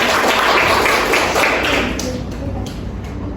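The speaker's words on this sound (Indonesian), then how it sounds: "Sekali lagi beri tepuk tangan yang meriah" A school audience claps through a loud, dense wash of noise at an Indonesian Independence Day student program, fading a little toward the end.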